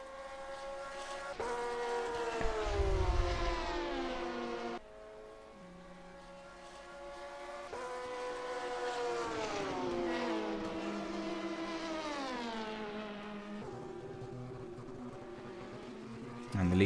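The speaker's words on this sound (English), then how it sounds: "I did hear a slow moving car for a split second there." GT3 race car engine in a sim racing game at Spa, a sustained harmonic drone that rises and falls in pitch through gear changes and speed shifts, loud and steady with no talk over it.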